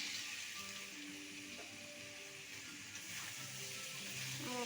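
Potatoes fry in a spiced masala for Bengali aloo dum, giving a soft, steady sizzle that runs unbroken and faint, with no talking.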